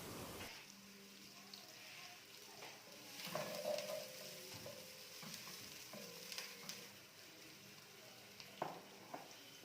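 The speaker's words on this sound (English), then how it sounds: "you are going to cook your onions until they are translucent and a bit softer" Onions frying in a pan with steady soft sizzling and crackle, fairly quiet, with occasional light stirring clinks and no talk.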